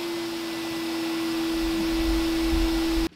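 ElektraPure gray-market import vacuum cleaner, about 21 to 22 inches wide, running steadily with a strong constant whine and airy roar, a low rumble building as it picks up, then cutting off abruptly.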